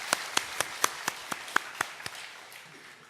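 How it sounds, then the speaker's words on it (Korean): A church congregation gives a brief welcoming round of clapping during a Korean worship service, about ten crisp, spaced claps close by, thinning out and fading after two seconds. "우리 박수로 환영하겠습니다"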